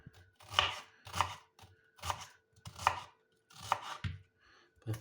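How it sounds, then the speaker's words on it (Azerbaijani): Onion is being finely chopped with a knife: about six to seven crisp, close strokes land on a cutting board at an even, unhurried pace, with no speech over them. "soğanımızı doğrayırıq."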